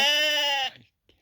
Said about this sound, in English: I'm out here in the corral with the sheep like I promised.